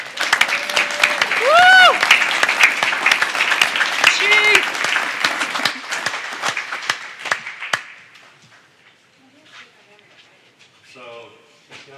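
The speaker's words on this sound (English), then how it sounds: "slow clap" An audience at a community college board meeting applauds a newly appointed police chief with loud, close clapping, punctuated by whoops and shouted cheers, before fading into near silence after about eight seconds.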